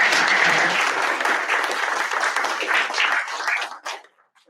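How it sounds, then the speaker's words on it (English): An audience applauds a panel speaker at a food sustainability event, a loud sustained wash of clapping that fades out over the last second. "can we just give a round of applause for Ted for that beautiful."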